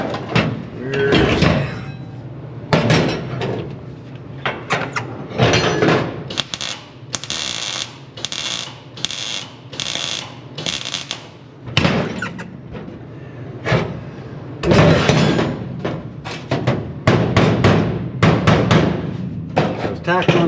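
Hammer blows tacking material in place during a tunnel repair, sounding as clusters of sharp, loud strikes in quick bursts with pauses between, close by, with some mechanical clatter and occasional talk.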